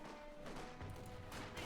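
Gunfire from the World War II strategy game Company of Heroes 2, with overlapping shots and bursts from an infantry battle in a steady, busy clatter.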